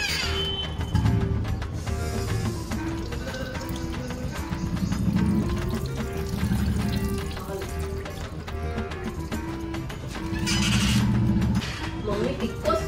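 Cold water is poured and splashed over a sleeping wife as a prank, with pouring, running liquid throughout and voices talking over it nearby.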